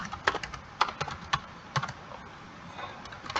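Typing on a computer keyboard, a few close, irregular key clicks in short bursts and pauses against a quiet room background.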